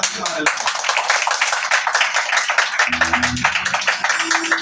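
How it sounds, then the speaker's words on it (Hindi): A church congregation claps in a steady, rhythmic burst throughout, fairly close and continuous, with a voice speaking over it near the end. "मार दो ताली"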